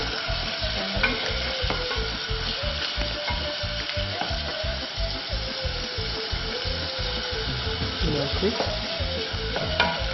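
Mushrooms sizzle and fry in a hot pan in a restaurant kitchen, a steady, dense crackle with rhythmic stirring scrapes throughout, close and moderately loud with no talking.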